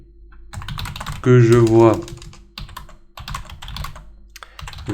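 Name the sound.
typing on a computer keyboard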